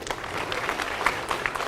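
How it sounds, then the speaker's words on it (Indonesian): A small gathered audience claps in a brief, dense patter of hands, moderately loud and close, with scattered louder individual claps. "Tepuk tangan kawan-kawan sekalian ya."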